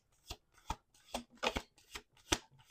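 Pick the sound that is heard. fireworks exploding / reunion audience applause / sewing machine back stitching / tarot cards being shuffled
tarot cards being shuffled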